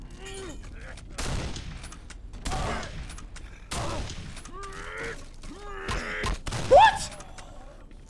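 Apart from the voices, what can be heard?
shotgun fire in a 2005 horror video game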